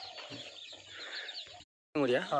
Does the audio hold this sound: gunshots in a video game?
no